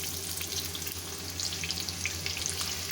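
Chopped onion drops into hot oil with roasted cumin seeds and sizzles loudly and continuously in a steady, hissing fry with no one speaking.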